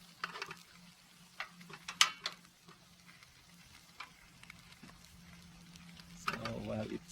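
Ham, bread, cheese and egg fry in a pan on a camping stove, giving a quiet sizzle broken by intermittent scraping and clinking of a utensil, with a louder clatter near the end.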